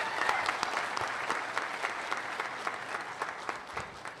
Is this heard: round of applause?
yes